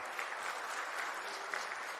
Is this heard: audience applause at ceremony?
yes